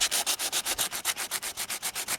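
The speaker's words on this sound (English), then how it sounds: "I'm next going to sand it with some 80 grit sandpaper." Hand sanding of dried body filler on a cracked car bumper with 80 grit sandpaper gives a steady rhythmic rasp, about six strokes per second, close and even with no talking.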